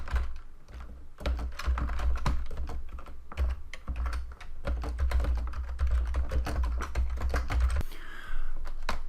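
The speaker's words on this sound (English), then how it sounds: "So I will type a paragraph." Typing on a computer keyboard, a dense run of quick, close key clicks and taps with brief pauses, alone with no talk.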